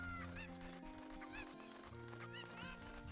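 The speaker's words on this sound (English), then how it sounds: "Get over here, you frustrating bird." Cucco chickens in Zelda Ocarina of Time 3D cluck repeatedly in quick, bright bursts over steady game music, fairly faint overall with no talking.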